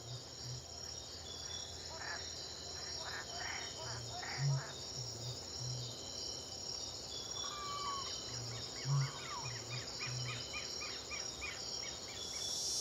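Crickets and other insects chirp steadily at dawn in the Brazilian wild, a dense continuous high trill with soft low pulsing calls and faint bird notes, with no talk.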